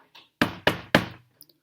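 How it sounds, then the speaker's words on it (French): Three firm knocks on a rabbit's wooden door in a forest, evenly spaced and close, each with a short resonant decay, followed by faint light ticks. "Robin toqua enfin à la porte du lapin."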